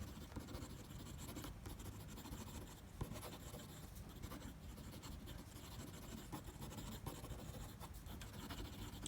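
A Visconti Breeze fountain pen with a smooth nib writing quickly on paper, a faint continuous scratchy hiss of nib on paper with small rhythmic strokes, close and quiet.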